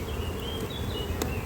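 Dense swarm of honeybees droning steadily around an opened hive being inspected, a continuous close buzz with high whining tones drifting over it.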